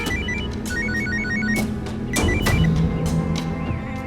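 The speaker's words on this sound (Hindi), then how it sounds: "मेरा फोन बज रहा है।" A phone rings with a repeating electronic ringtone, short melodic beeps in bursts, over a busy background of music and noise.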